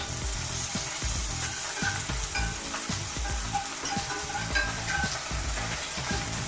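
Chopped green chili frying in a pan, hissing steadily at close range while a spatula thuds and scrapes in a quick repeated rhythm, with no speech.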